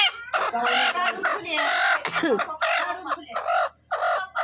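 A hen clucks repeatedly up close in short, choppy bursts, with a brief squawk partway through.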